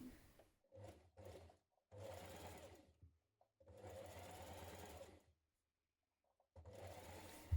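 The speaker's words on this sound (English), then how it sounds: "Now we're going to stitch it in place a couple of millimetres from the edge all the way down" A sewing machine stitches a blouse neck facing close to the edge, running in several quick bursts and longer steady runs separated by short quiet pauses.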